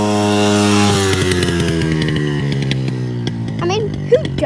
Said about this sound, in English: he's riding my dirt bike